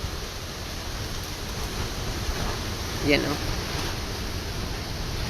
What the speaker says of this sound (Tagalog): nagsisimula pa lang yung hangin pero malakas na